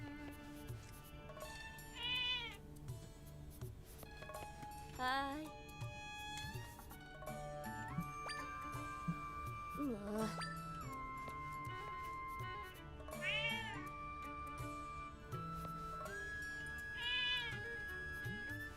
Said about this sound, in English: Cats! Why are there so many cats here?